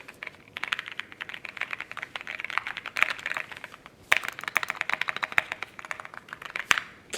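Fast typing on a Keychron Q1 Max mechanical keyboard gives a close, dense run of deep, clacky keystrokes, with a few sharper, louder strikes and no talking.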